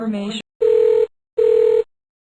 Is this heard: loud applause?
no